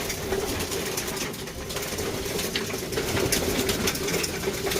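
Kalonger pigeon squabs coo softly at feeding time, with low murmuring calls and light fluttering against a steady background hum at close range.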